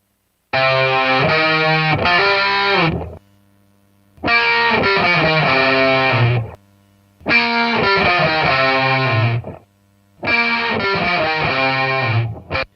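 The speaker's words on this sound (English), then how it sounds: "So we initially just had this riff here, and let me know if that sound actually works." Electric guitar riff played through a heavily distorted amp, four loud repeated phrases of chugging chords separated by short silences.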